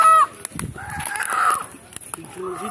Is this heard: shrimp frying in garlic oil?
no